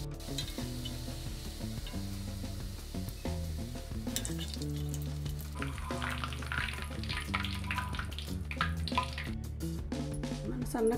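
Sanna karapusa snack dough fries in hot oil, a steady bubbling sizzle that grows busier and crackly toward the end, heard beneath continuous background music with a tonal, harmonic bed.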